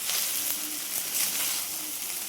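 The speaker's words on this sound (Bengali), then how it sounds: "পাস্তা সেদ্ধ হয়ে গেছে, নিয়ে তারপরে এইভাবে ভাজবে, খানিকক্ষণ ভাজবে, এইভাবে নেড়ে নেবে" Boiled pasta frying in a pan while being stirred, giving a constant close hiss and sizzle with faint scraping underneath.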